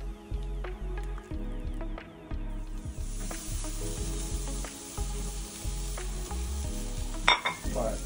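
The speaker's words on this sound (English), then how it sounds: "Let's leave that to sear on the steak." Sirloin steak searing on a hot barbecue, a steady close sizzle with faint stirring and clatter, continuing throughout with a brief louder scrape near the end.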